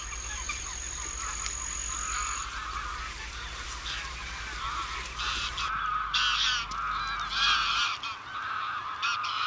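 Thousands of geese feeding in crop fields at Villafáfila honk continuously, a dense, overlapping chorus of calls at middle distance over a low background rumble.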